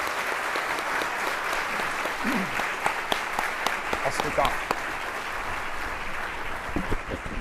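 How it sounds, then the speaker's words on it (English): A business audience at a Chicago marketing association talk gives a sustained round of applause for a presenter, the clapping holding steady while a brief voice speaks over it. "Please, everybody, give Brent a big round of applause."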